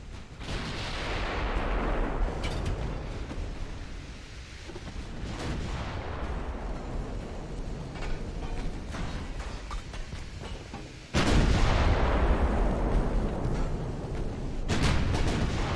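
Heavy naval gunfire strikes rock a battleship in the Ultimate Admiral: Dreadnoughts naval combat game, with loud rolling booms and rumbling impacts that run nearly continuously, plus a sharp fresh blast midway through.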